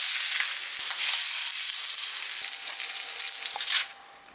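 Meat sears in a very hot pan with a steady, close sizzle that holds throughout and tapers off near the end, broken by a few faint clicks.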